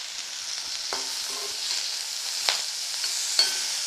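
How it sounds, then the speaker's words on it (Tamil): Pirandai, ginger and curry leaves sauté in a pan with a steady soft sizzle, broken by a few sharp clicks and scrapes of a spoon stirring against the metal. "இப்போ இது நல்லா வதங்கி போச்சு"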